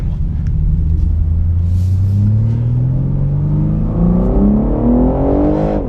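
2021 BMW M3 accelerating hard on a race circuit, loud engine note climbing steadily through the revs with deep rumble, heard from inside the car without speech.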